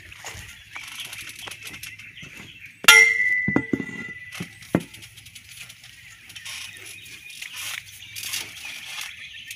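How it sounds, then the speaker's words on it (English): A referee rings a wrestling ring bell: a sharp metallic clang strikes once and rings out briefly, followed by scattered crowd noise and shouts around the ring. "Ring the bell, ref."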